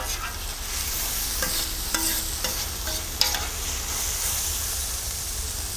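Cream being stirred into veal juices on a hot plancha: a steady frying sizzle and hiss, with a few soft scraping strokes of a utensil against the metal, close and continuous.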